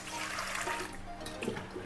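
Plenty of water is poured into a pot in a home kitchen, to be boiled for sweet gulgule. A continuous splashing gush runs close and moderately loud throughout.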